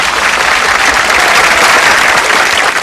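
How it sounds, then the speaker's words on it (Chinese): An audience bursts into loud, sustained applause, dense clapping that holds steady for the whole stretch with no voices over it. "来，掌声啊！"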